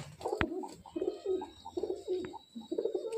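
Pigeons of a Giribaz, Madrasi or high-flyer breed coo in soft, rolling phrases, several calls repeating at a steady rhythm, close and fairly quiet, with one sharp click partway through and no voices.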